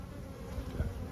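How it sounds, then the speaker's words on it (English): Honey bees buzz at an open hive during a spring inspection, a low steady insect drone close by with a slightly louder pass near the end, no voices. "There's a bee going in it."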